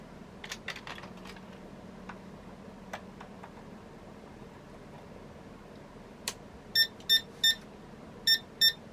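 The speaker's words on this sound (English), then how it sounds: "And then it's beeping like it should with no memory." An Arima-made ACT 386sx portable computer starting up with its memory chips removed: quieter clicks and low hum, then a run of short electronic beeps in evenly spaced pairs near the end, loud and close.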